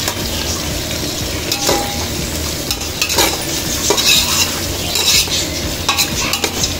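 Onions sautéing in a pan for a quail biryani as a spoon stirs them, giving a loud steady sizzle broken by repeated scraping strokes at an uneven rhythm.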